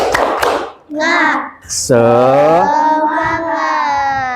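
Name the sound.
classroom children doing a rhythmic spirit clap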